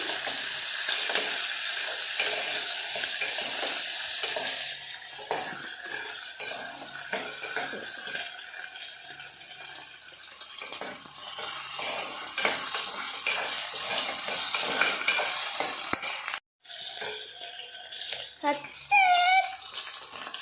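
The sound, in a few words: potato and coriander frying in a pan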